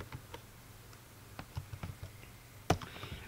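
Keystrokes on a computer keyboard, typed while entering an AutoCAD command, come as quiet, irregular clicks in short bursts, ending with one sharper, louder key tap near the end.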